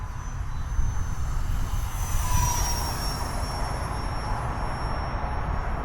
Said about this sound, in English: this one sounds pretty nice. Very quiet, but it still has that EDF sound